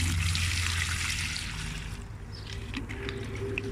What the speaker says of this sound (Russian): ведро 10-литровое наливаем. И наливаем туда воды.